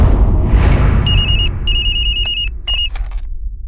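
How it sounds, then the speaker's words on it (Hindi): A telephone rings with loud electronic trilling bursts, three rings in quick succession over a rumbling low background, in an action film scene. "पुणे में मोहन राव को फोन करो।"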